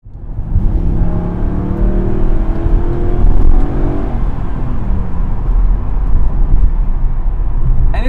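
A 1999 Mercedes C43 AMG roars under acceleration, its engine and exhaust loud and close, with the pitch rising and holding steady over several seconds and no talking.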